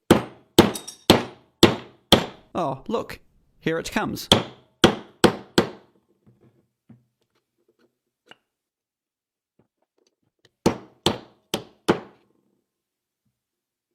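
Hard hammer blows strike a metal case in a vise, a fast burst of sharp clanks followed by a quiet pause, then a second, shorter run of strikes close to the microphone, with a brief spoken remark among them.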